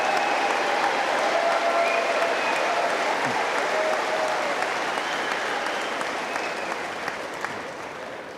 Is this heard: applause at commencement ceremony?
yes